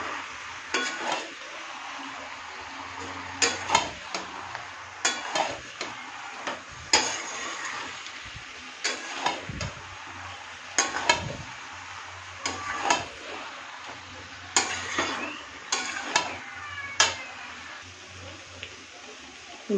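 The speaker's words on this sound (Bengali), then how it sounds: "এইবার এটাকে ভালো করে কষাই।" Malabar spinach with spices is stirred and fried in a pan, heard as a soft continuous sizzle broken by irregular scraping and clinking of a utensil against the pan at close range.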